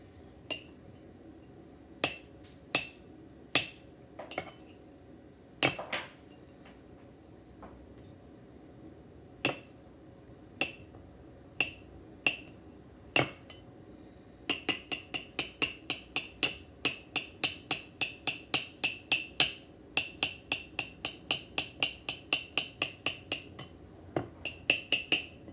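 Quick knife chops dicing onions on a cutting board, sparse sharp taps at first, then a fast steady rapid-fire run of close, crisp strikes.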